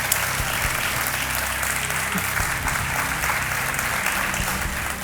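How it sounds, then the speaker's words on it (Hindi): Sustained studio audience applause welcoming a contestant on Kaun Banega Crorepati, a thick, even roar of many hands clapping at close range for the whole stretch, with no voices breaking through. "तालियों के साथ इनका स्वागत करते हैं।"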